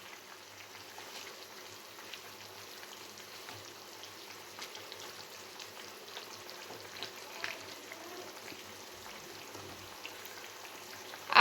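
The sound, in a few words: fried pangas fish added to boiling curry broth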